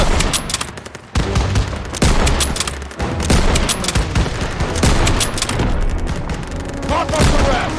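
Call of Duty WW2 combat fills the moment with loud, rapid bursts of gunfire and heavy booms, repeated shots cracking close by in an almost unbroken barrage, with voices talking underneath.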